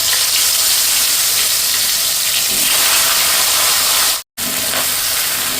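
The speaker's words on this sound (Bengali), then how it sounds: "আমি যেহেতু ফুলকপিটা দেব তেলে আর তেলটা ভীষণ ছড়াবে চারদিকে" Cauliflower florets fry in hot oil with a touch of turmeric, giving a loud, steady sizzle and hiss that fills the clip, broken by one brief dropout near the end before the frying noise resumes.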